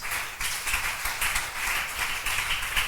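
A church congregation claps and applauds in steady, dense rhythm, a sustained even clatter of many hands filling the whole stretch at moderate loudness.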